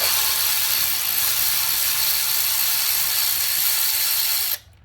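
Ratchet works on the throttle body bolts of a Mazda CX-9 engine, a loud, continuous close-up whirring clatter that runs steadily and then stops abruptly near the end.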